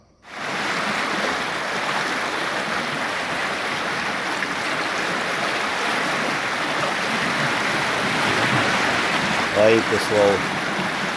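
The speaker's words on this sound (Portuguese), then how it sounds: "vejam as águas aqui do cinturão. O canal tá cheio, olha." Water rushes steadily through a full canal of the Cinturão das Águas water-transfer channel in Ceará, a loud, continuous roar, with someone speaking briefly near the end.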